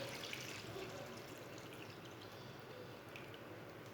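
Water pours steadily into a pressure cooker holding soaked white chickpeas, a soft, even splashing trickle heard close up without speech.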